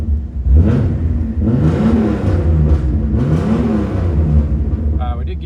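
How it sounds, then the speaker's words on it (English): A one-owner 1986 Toyota Supra with a five-speed revs its warmed-up engine, loud close rumbling swells climbing and falling a couple of times, with a voice talking over it near the end. "It's a good sounding car."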